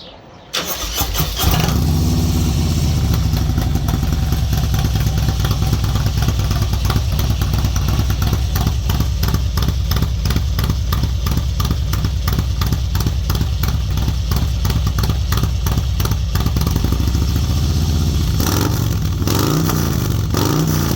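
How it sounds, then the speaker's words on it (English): Motorcycle engine fires up after a brief crank and settles into a loud, steady running idle with a fast rhythmic pulse, close by and alone for about twenty seconds. "Maybe I want to fire that up there, Brian, and let's show the people what it sounds like"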